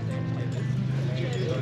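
A horse walks during a horseback ride in Cappadocia, its soft hoof clip-clops partly buried under close conversation.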